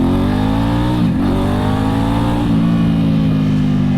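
A 2008 Ducati S2R1000 Monster motorcycle engine revs loudly and close, with a steady rumbling idle, a quick throttle blip and dip near one second, then a sustained higher-pitched rev held to the end, no talk.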